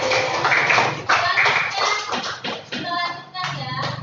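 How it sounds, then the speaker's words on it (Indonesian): Applause from a small group in a lesson setting, rapid steady clapping that continues for several seconds with slight pauses, fairly close and loud, with children's voices faintly mixed in. "Terima kasih Gea telah memberikan tepuk tangan dong buat Gea."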